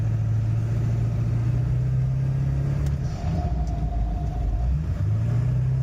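A 7.3 diesel truck revs in first gear with a steady, heavy low rumble and constant drone, loud and close throughout with no voices.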